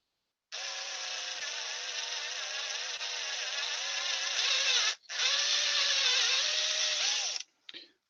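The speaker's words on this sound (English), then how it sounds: "It's only beach I'm drilling into, folks, and it's a really sharp bit." A power drill with a sharp bit bores into beech wood during woodturning, a loud, steady high-pitched whirring that runs for several seconds, cuts out briefly, resumes, then stops with a short final burst.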